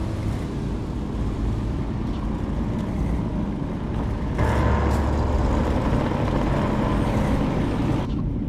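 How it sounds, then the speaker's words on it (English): AI traffic trucks in American Truck Simulator on a small-town road, continuous loud engine drone and road rumble that steps up sharply midway as a heavier vehicle closes in, with hissing bursts like air brakes and no talking. "I think it's the AI trucks."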